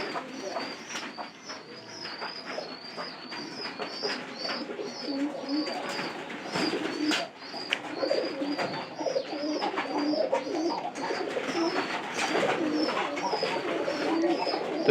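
Domestic pigeons coo steadily and repeatedly close by, a soft rhythmic series of throaty calls continuing throughout over faint background noise and light rustling.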